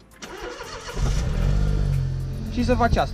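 A car engine cranks and catches, then settles into a steady idle rumble while someone speaks over it, with another short rev near the end.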